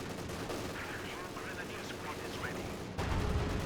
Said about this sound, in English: the MG42 is just shooting at the tank